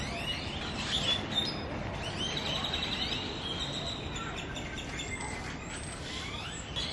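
Birds chirping and singing outdoors, with several high thin calls scattered through a steady broad wash of outdoor noise, fairly faint against the background.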